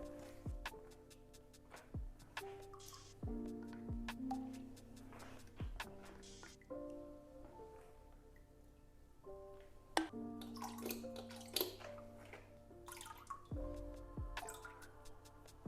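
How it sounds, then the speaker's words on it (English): Liquid aquarium fertilizer containing nitrates is dosed into a planted tank, giving scattered drips and small splashes into water over a steady tonal background hum. "I'm just gonna dose some fertilizer"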